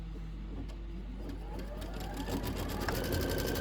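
A Kimberbell embroidery machine stitches down flexi foam in a steady, close mechanical whir with a rapid rhythmic needle ticking, running continuously and fairly quietly.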